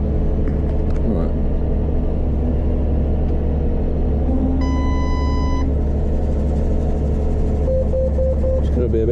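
A farm tractor's engine runs steadily with a loud, constant low rumble while spreading lime onto a main road, with a brief electronic beeping tone partway through and a person talking over it.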